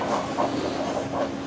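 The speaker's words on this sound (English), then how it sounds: "This is a train, just maybe 100 people or so." A passenger train carrying around a hundred people rolls along its rails between Guatemala and the next country, a steady close rumble with faint rhythmic clacking and no talk.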